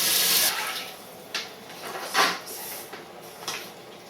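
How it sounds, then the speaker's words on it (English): Tap water runs into a pan to cover corned beef brisket: a strong splashing flow at first, then several shorter bursts and pauses with faint clatter in a kitchen. "Then we want to cover the meat with water."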